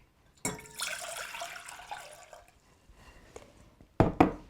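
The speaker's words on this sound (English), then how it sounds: "So let me put the water" Water pours from a tap into a cooking pot, a sustained splashing stream that tapers to trickles and drips, followed by two sharp clanks near the end.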